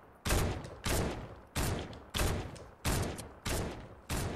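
Gunfire in the game Fortnite, seven loud evenly spaced shots about every 0.6 seconds, each a sharp blast with a quick decaying tail, heard alone without talk.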